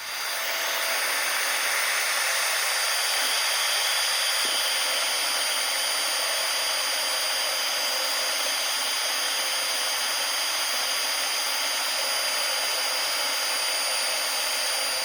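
Sanding a Milliput inlay produces a steady, unbroken hiss of abrasive noise, close and fairly loud, holding at an even level for the full fifteen seconds with no voices.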